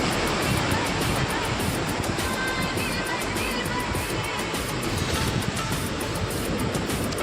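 Water rushes through the partly opened gates of the Teesta barrage, a steady, loud, broadband roar that holds unbroken from start to finish with no talk over it.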